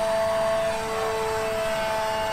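A 3D-printed radio-controlled de Havilland DH.98 Mosquito model plane on its maiden flight, its electric motors whining steadily with a sustained high tone as they throttle up, close and loud, with no talk.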